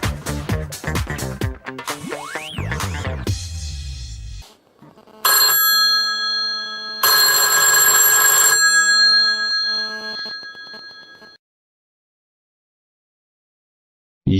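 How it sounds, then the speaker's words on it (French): A red telephone rings in The Sims 2, a loud electronic ringtone with bright tonal bursts and sweeping chimes, ringing in separate phrases with short gaps and then stopping, with no voices. "le téléphone rouge ressonne encore"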